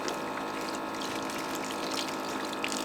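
Water running steadily into a collapsible bin at a campsite, a constant close gushing hiss with no breaks.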